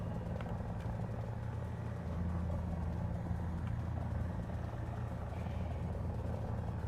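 In the War Thunder combat game, a steady, loud aircraft engine drones continuously close by, a dense rumbling roar with no talk over it.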